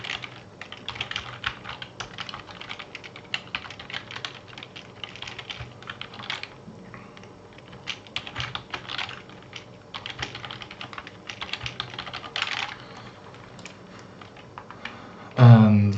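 Fingers type on a computer keyboard to rename a folder, producing a steady, close patter of key clicks in quick bursts, ending with a brief louder knock.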